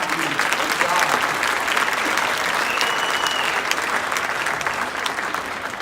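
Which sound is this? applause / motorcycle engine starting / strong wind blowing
applause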